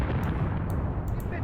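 Artillery fire in the WW2 tactical game Graviteam Tactics on the Volkhov Front: a loud, continuous barrage with several sharp impacts cracking through the dense roar.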